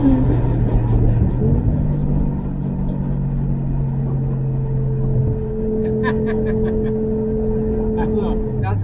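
The engine of a Brabus G800 G-Class rated at 800 PS rumbles steadily from inside the cabin, a deep held drone that shifts pitch as it changes gear, while someone talks over it.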